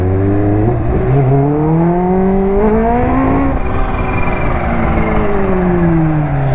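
A powerful sport motorcycle engine roars loudly on an open road, rising and falling in pitch, with a rough juddering edge as its electronics engage.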